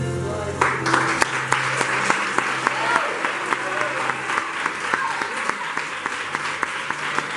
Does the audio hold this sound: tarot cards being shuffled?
no